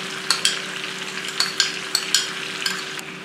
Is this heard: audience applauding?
no